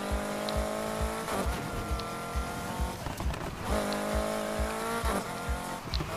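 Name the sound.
car drifting in Need for Speed Heat video game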